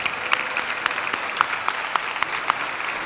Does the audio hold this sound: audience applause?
yes